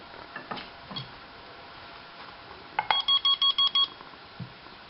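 A Smart Beep transmitter is switched off with a magnet pen, with a few soft taps and clicks first, then a close run of six evenly spaced electronic beeps before it stops.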